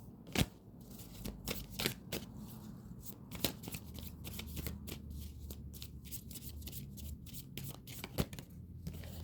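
A new deck of oracle cards is shuffled by hand in a quiet room, giving a steady run of soft riffling and slapping card sounds with sharper snaps every second or so, close by and without talk.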